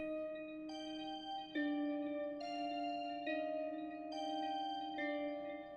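A synth sample that has been reversed and pitched down plays faintly on its own, a soft bell-like melody of held tones with changing notes and swelling edges.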